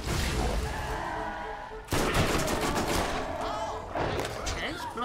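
Borderlands combat gunfire, with dense bursts of shots and impacts stacking up in loud, close volleys and occasional heavier thumps, while a player talks over it.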